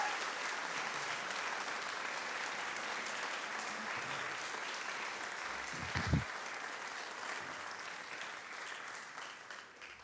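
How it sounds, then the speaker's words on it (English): Steady applause from a virtual event audience welcoming the next guest, a writer on creativity, sustained and even at moderate distance for the full stretch, with a brief louder burst partway through. "So put your hands together."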